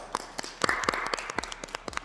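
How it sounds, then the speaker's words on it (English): A few people clap for Drake in a short burst of uneven, close claps that last about two seconds. A voice talks faintly underneath. "Let's clap for Drake."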